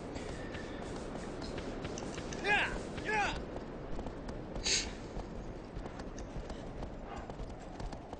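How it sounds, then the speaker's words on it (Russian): A horse gallops in the video game Shadow of the Colossus, with a steady clip-clop of hooves, occasional snorts and brief sharp accents, while a person talks over the game sound. "Лошадь, скачи. Скачи, лошадь."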